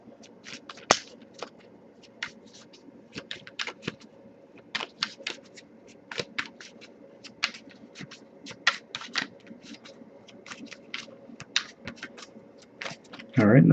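Tarot cards being shuffled by hand produce sharp, irregular riffling snaps and taps, close and crisp, scattered over a faint steady hum, with a louder burst right at the end.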